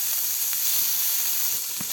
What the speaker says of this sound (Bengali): এবার ওই তেলে ঢেঁড়স রান্নার জন্য পেঁয়াজ কুচি আর কাঁচামরিচ কুচি দিয়ে দিল।